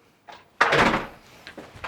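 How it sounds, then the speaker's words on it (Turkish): An indoor door being shut during dog training, heard as a soft movement followed by a loud, close thud with a brief rattle, then faint light knocks afterward. "Tekrar kapıyı kapatıyorum."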